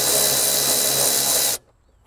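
A Milwaukee M12 cordless ratchet whirs loudly and steadily, close up, for about a second and a half as it removes a bracket on an Alfa Romeo Stelvio, then cuts off abruptly into near silence.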